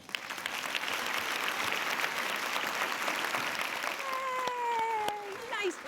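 An audience at a charity dinner breaks into sustained applause, a dense, even wash of many hands clapping that continues throughout with a voice and some brief high tones near the end.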